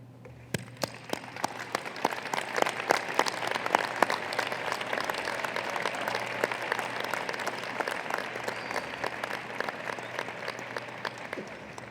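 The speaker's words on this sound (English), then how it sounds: "let us stand and applaud to those who have brought us to where we are today" Graduates at a 2010 fall commencement ceremony applaud at length, a dense, steady roar of many hands clapping that holds at an even level throughout.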